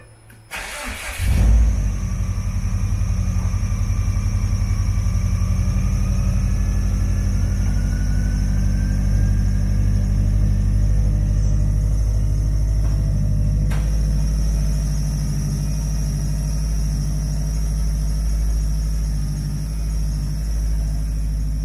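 A Subaru car engine cranks and fires on its first start, then settles into a steady, loud, close idle rumble with a constant hum that runs unbroken for about twenty seconds, with no talking.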